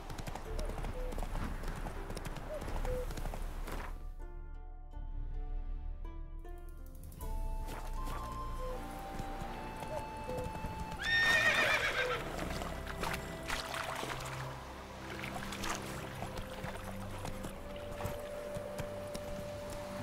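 Roach, a horse in The Witcher 3 video game, gallops with steady clip-clop hoofbeats and gives a neigh partway through, mixed with game music and a voice.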